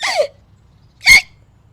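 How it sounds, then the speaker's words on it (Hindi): Two loud hiccups from a young married woman, a daughter-in-law in a household scene, sharp and close, separated by about a second of quiet. "बहू बोलने ही जाती है कि जोर से हिचकी आ जाती है।"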